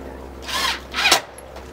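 A power drill drives screws into a wooden chicken tractor frame in two short, close whirring bursts, each rising and cutting off quickly.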